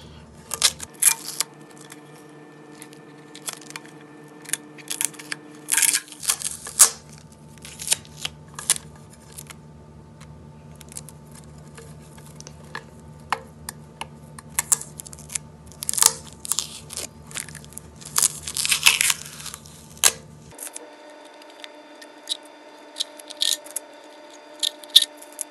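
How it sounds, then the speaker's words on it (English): Painter's tape peels off a glass lantern in a long series of close, irregular crackling rips and sticky tearing bursts, with short pauses and faint background hum in between. "Now, my favorite part, removing the tape."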